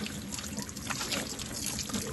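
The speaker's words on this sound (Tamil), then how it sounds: "ரிங்கு தலை கண்ணை முடிக்க ஊத்த போகிறேன்" Water is poured over a child's head during a bath, a continuous splashing trickle with a faint voice in the background.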